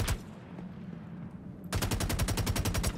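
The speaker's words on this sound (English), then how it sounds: "Just need to shoot it open" Gunfire in the Star Citizen video game as a docking collar is shot open: one sharp shot, a pause, then a loud rapid automatic burst of evenly spaced rounds that fills the second half.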